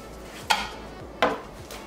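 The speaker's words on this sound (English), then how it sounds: "I'm just going to go in with the back of a spoon. Plop some in there." A spoon drops dollops of thick pink gel food coloring into a bowl, giving two short, soft clinks about three quarters of a second apart, close up with no voices.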